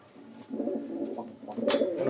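A male Benarasi Lotan pigeon gives a soft, low, rolling coo close by, one short phrase alone in a quiet setting.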